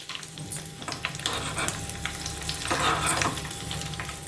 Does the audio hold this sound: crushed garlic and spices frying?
yes